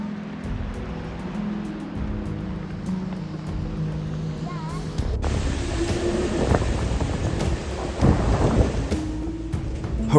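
Hurricane Ian strikes Mount Pleasant with heavy rain and rolling thunder, a loud, dense roar that swells and crashes midway, with boats rocking on rough water and a voice talking over the storm.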